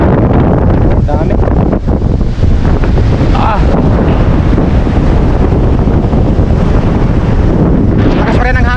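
Strong wind buffets the microphone at a shoreline, a loud, constant roar of gusts with waves underneath, steady throughout with faint voices briefly in the background.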